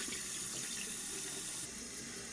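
Water runs steadily from a tap for a rinse, a continuous close splashing hiss that drops slightly in level near the end.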